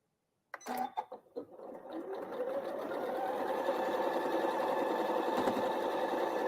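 A sewing machine stitches a quilt block, starting with a few short bursts and then settling into a steady, continuous hum of fast stitching, close and fairly loud, with no talking.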